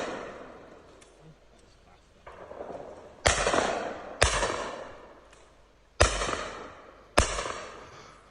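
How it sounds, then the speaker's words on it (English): Shotgun fire at a clay pigeon flurry shoot at Werrington Park, four loud sharp blasts at uneven intervals, each ringing out and decaying, over outdoor background noise and distant voices. "But these flurry shoots, they're fast, they're hectic"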